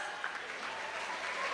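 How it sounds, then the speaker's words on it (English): An audience at a physiotherapy conference applauds a college quiz team, a steady moderate patter of many hands clapping without a break. "Let's give them a round of applause."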